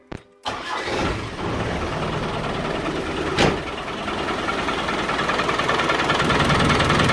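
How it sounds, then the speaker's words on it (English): A 1990 diesel engine cranks over while its fuel system is bled. It starts with a short click, then makes a loud, continuous churning drone at close range, with no voices. "crank the engine over until the fluid starts feeling like it's coming through"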